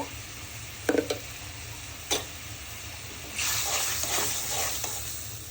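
Shrimp frying with turmeric and chili powder in a pan for an okra curry, with a steady sizzle rising midway and a few sharp stirring scrapes and clinks, close and moderately loud with no talk.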